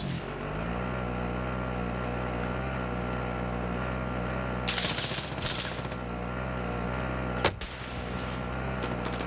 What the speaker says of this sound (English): they shoot at me from everywhere right now